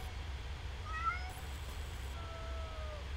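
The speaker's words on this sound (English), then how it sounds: "It looks like this kitten is in big trouble." A kitten in the horror video game Amanda the Adventurer gives several thin, high meows, a short cluster followed by one longer drawn-out cry, faint over a steady low background hum with no talking.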